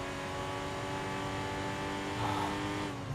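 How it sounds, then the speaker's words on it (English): Bi-turbo race car engine in the Enthusia Professional Racing video game, a loud steady harmonic drone held throughout with a brief rise in pitch near the end, no talking. "the sound of this car though is absolutely delicious"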